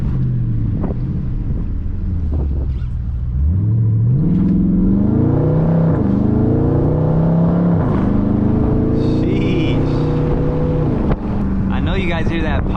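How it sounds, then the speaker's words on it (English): A Dodge Charger Scat Pack engine revs and climbs through gears with sharp pops at each shift, loud and close with wind buffeting over the microphone. "You guys hear that pop? Every time it shifts, it pops."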